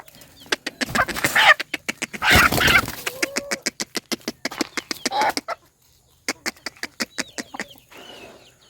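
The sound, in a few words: young white hen clucking on farm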